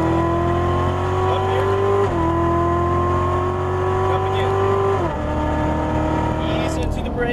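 A Chevrolet Corvette C7 Z06 engine pulls hard on a race track, its loud droning tone climbing steadily through two upshifts with brief dips between gears, while an instructor talks over it.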